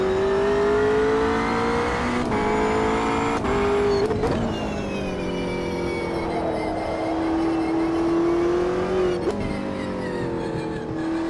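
McLaren race car engine in Automobilista 2 at Le Mans, a loud sustained high-revving drone with steady pitch, short drops at gear changes and a brief throttle lift midway, no talking.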